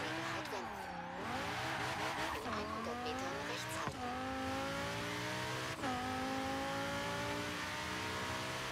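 A Porsche Carrera GT engine in Forza Horizon 3 screams loudly, climbing in pitch through repeated gear changes. Sharp drops mark each shift.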